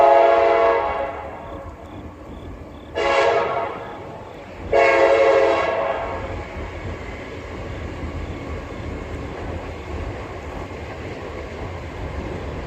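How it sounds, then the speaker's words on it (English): A train rolls past with loud horn blasts, one long opening note and then two shorter ones, before the steady rumble of the wheels fades. The noise carries into a home kitchen where chicken chili is being cooked. "Here comes a train."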